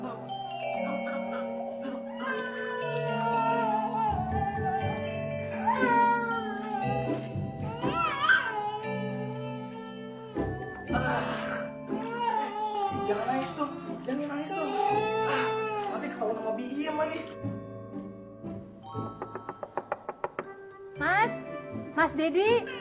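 A man imitates a baby's crying with high, wavering wails and whimpers in a car, loud and close, in long expressive bursts with brief pauses.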